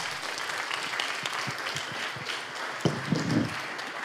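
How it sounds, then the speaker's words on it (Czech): Listeners at a teaching methodology lecture give steady applause, a soft dense patter of many hands, with a brief bump of nearby noise and a murmured voice near the end. "Zaslouží si to dlouhý potlesk."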